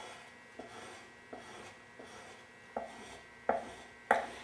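A Japanese chisel is sharpened on a whetstone with about six rhythmic rasping strokes, each starting with a scraping grind and fading, growing slightly louder toward the end, close and alone.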